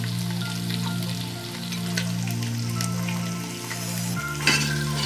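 Nihari frying with nihari masala in a pan gives a close, continuous sizzle with occasional stirring scrapes over a steady low hum; no one speaks.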